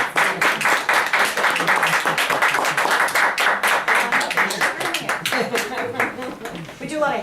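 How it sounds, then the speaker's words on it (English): An audience at a Toastmasters club meeting claps in a dense, rhythmic burst that holds steady for several seconds before tapering off, with voices talking faintly underneath. "We do a lot of handshaking and clapping"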